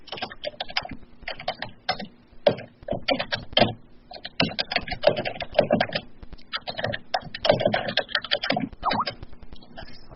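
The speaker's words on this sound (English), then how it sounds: "is that you typing?" Fast typing on a computer keyboard heard over a phone or web call line, dense irregular key clatter in quick bursts with short pauses, steady and fairly close.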